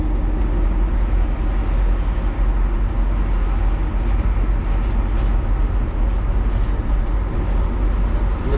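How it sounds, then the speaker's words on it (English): Road traffic merging from an on-ramp onto a large bridge gives a continuous, loud, low rumble of engines and tyres with no breaks or distinct passes. "There's traffic merging in from an on-ramp to the right."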